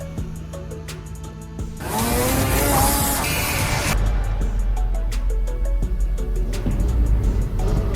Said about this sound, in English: This is a police snowmobile, a special snow vehicle for patrolling and rescuing in icy conditions